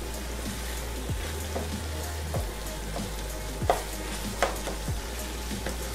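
Meat browns in a frying pan for shepherd's pie, giving a steady sizzle under occasional scraping stirs and taps of a utensil against the pan.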